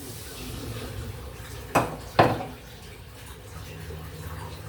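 Shrimp tipped into a pan of garlic and Sprite makes two quick splashing clatters close by, followed by a soft low simmer.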